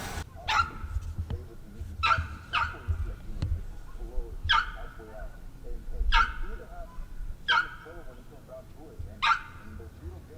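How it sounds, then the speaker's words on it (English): A dog barks repeatedly at a lakeside campground, sharp bow-wow bursts spaced every second or so, fairly close and loud, with people talking faintly in the background. "don't put him outside and let him bark all day long"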